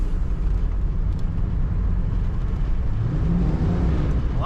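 A 1991 Ford Mustang LX convertible accelerates as its transmission kicks down, a steady low engine drone heard from inside the car, rising slightly toward the end.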